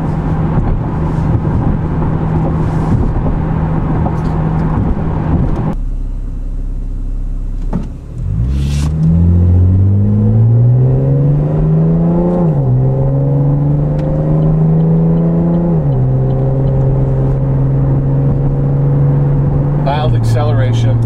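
A 2010 V6 Camaro with an aftermarket exhaust heard from inside the cabin: engine drone rises as it accelerates toward about 4,000 RPM, eases and climbs again, a subdued exhaust note under road noise with someone talking over it.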